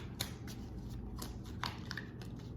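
Tarot cards being shuffled by hand, a series of crisp riffling and slapping bursts at an irregular rhythm, close and fairly quiet over low background hum.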